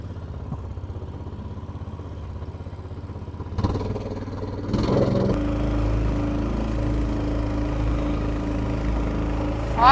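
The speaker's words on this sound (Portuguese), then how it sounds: "Acabou de passar uma lancha pela gente" A motorboat passes close on a river beside a beach, its engine roar rising suddenly from a low drone to a loud, steady rumble that carries on to the end.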